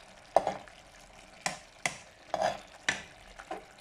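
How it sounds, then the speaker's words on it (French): Aubergines cooking in coconut milk are stirred in a pot while the liquid reduces, giving a handful of separate spoon scrapes and knocks spaced about a second apart, fairly faint. "je fais comme ça pour que le liquide s'évapore très vite, tout en mélangeant chaque 5 minutes"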